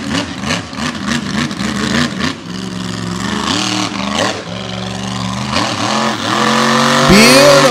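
A big white Ram race truck with a heartbeat engine mounted in the back revs hard on a dirt track, its loud engine note rising and falling in repeated surges before climbing to a sustained high whine at the end.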